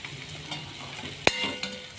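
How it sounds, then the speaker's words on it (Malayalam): Green chilies for tomato chutney fry in a pan with a gentle sizzle, broken by a crisp clack of a stirring utensil and a smaller knock after it; no speech. "ഒന്ന് പച്ചമുളകൊന്ന് വഴണ്ട് വരട്ടെ"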